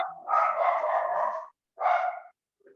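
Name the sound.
dogs barking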